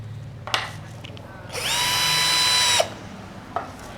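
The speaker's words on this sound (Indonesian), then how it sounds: "sekarang saya langsung coba untuk mata bor kipas ya." An INGCO 12 volt cordless drill bores with a 25 mm spade bit, spinning up into a sustained whining grind for about a second and a half before cutting off, close, with brief knocks before and after.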